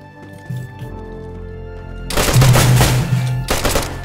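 Gunfire in the video game DayZ erupts after a quiet low hum, loud rapid bursts of shots that start about halfway through and return in another burst near the end.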